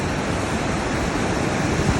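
Water from a flooded river that has burst far beyond its banks rushes loudly and steadily, a dense, unbroken roar with no voices over it.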